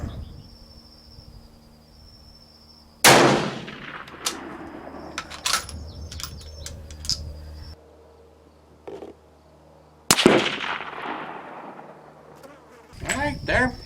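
Two sharp pistol shots at an outdoor shooting range from a Steyr and a small Remington handgun, each a loud crack with a ringing tail, set several seconds apart amid faint rustling and a brief voice near the end.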